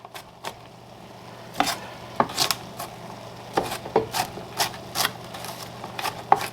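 A knife chops onion on a cutting board in irregular, sharp close knocks, spaced out at first and then coming in quicker bunches, over a low steady kitchen hum.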